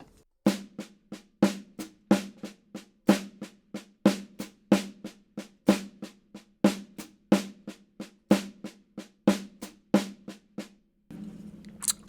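Snare drum played alone in a steady pattern of loud accents mixed with softer ghost strokes using right-left-left sticking, crisp repeated hits with a tonal ring, a foot keeping quarter notes underneath.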